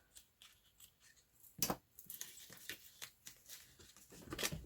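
Scissors snipping through paper while making lace-trimmed paper pockets, a series of short crisp cuts with a louder snip near the middle and a quick burst at the end, close to the microphone with no talking.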